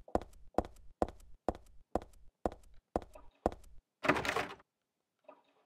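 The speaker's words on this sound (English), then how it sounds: "The lock is broken, I can't open the door." A door with a broken lock in the video game Silent Hill 3 is tried: eight evenly spaced heavy thunks, then a short burst of rattling and a faint final clack. The sounds are close and clear, with no voice.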